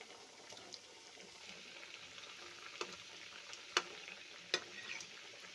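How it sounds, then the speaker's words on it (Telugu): Biscuits frying in oil for coconut rasgulla, a soft, steady sizzle heard from close by, with a few faint crackles and pops scattered through it. "బిస్కెట్స్ కూడా బాగా ఎర్రగా వేగనివ్వాలి"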